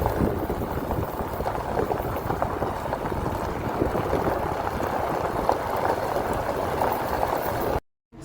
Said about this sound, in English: They all seem to be working, stopping the water from going any farther and going through these culverts.